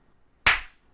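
A group claps once together in unison, a single sharp, loud burst of hands against near silence that quickly fades.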